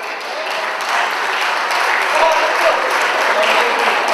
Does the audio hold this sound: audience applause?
yes